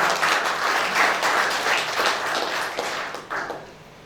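Audience applause in a church during a sermon, a dense, steady wash of clapping from the congregation that holds for several seconds and tapers slightly at the end.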